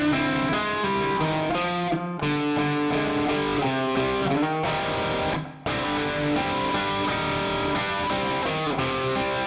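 Distorted electric guitar sliding between minor chords, loud and continuous with sustained, effect-laden chords and a brief break midway.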